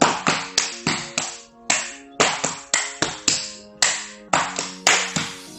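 Rhythmic hand-clapping in a fifth beat pattern for an elementary class lesson, crisp close claps in repeating groups with short pauses, no talking.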